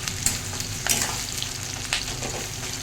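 Onions frying in oil, browning for a paneer, potato, tomato and capsicum curry: a dense, continuous sizzle with occasional stirring scrapes, close and steady.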